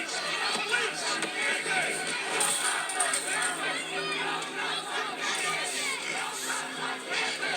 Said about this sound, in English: The crowd is screaming, "No cops on campus."